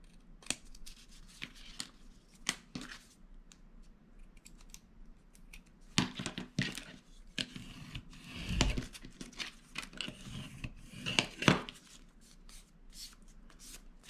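Scissors cut through folded paper while making a homemade file folder, giving a series of crisp snips and rustles at close range, quiet and intermittent with no talking.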